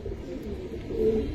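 Three female khaki pigeons coo softly nearby, a brief low burbling murmur with a slight swell toward the end and no talk over it.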